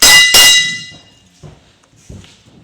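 A ring bell sounds two loud, bright clangs in quick succession at the start, each ringing out and decaying, followed by faint scattered knocks with no talking.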